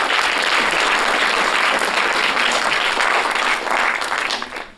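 An audience at an awards ceremony for film technicians claps steadily and loudly for the prize winners, a dense, even applause that fades toward the end.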